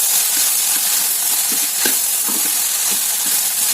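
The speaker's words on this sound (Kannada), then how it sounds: "ಚೆನ್ನಾಗಿ ಕಲ್ಸಂದ್ರಿ." Ingredients for a buttermilk curry, seasoned with salt and turmeric, sizzle in a pan as they are stirred, a loud, steady frying hiss with scattered soft scrapes and knocks close by.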